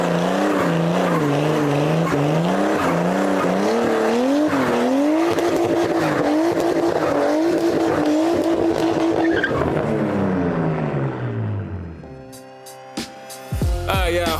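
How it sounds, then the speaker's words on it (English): A Nissan R33 doing a rear-wheel-drive burnout: a loud, high-revving engine with a wavering pitch over continuous tire screech, then the engine drops off and the noise breaks up near the end. "I wanna try to do one, a rear wheel drive burnout."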